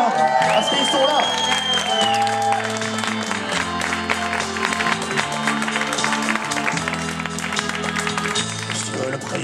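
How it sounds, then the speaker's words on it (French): An audience claps for live musicians at an evening gathering, a dense wash of applause running steadily beneath the continuing music, with voices mixed in. "On peut les applaudir aussi, hein, parce qu'ils sont là."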